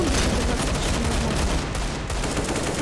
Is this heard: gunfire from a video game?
yes